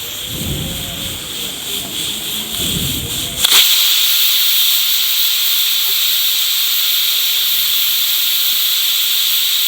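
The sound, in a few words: pressure cooker whistle releasing steam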